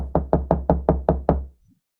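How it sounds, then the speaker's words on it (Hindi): Seven evenly spaced knocks on a wooden door, close and solid, trailing off into silence. "तभी फिर से दरवाजा खटखटाने की आवाज आती है"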